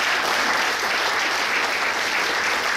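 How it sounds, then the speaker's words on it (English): Graduation day audience applauding the parents, a dense, even roar of many people clapping continuously at full volume. "the big round of applause to the parents."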